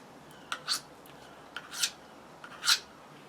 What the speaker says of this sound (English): that enables us not to cut our fingers, but sharpen the knife